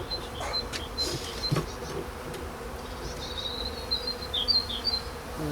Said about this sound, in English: There's a few bees there, but not a lot